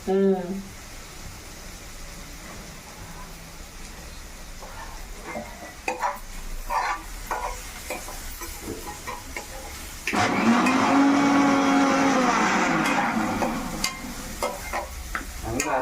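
Beetroot sizzling in a frying pan while being stirred, steady frying hiss with scraping stirs, growing louder and busier partway through, with people talking at times over the cooking.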